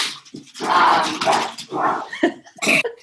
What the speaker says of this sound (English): My dogs are full on crazy.